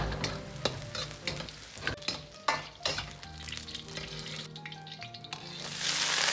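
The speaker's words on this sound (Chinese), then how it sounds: "然后用同样的方法加入控干水分的土豆煸炒" Green beans and drained potatoes stir-fry in a hot wok, a close sizzle broken by repeated scraping and clanking strokes of a spatula, with a louder hiss building near the end.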